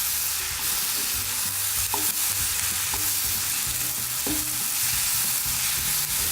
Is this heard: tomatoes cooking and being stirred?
yes